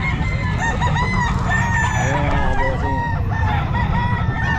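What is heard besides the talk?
roosters crowing at a pet market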